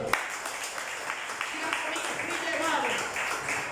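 A church congregation breaks into applause, a sustained patter of clapping that thickens toward the end, with a preacher's voice speaking over it.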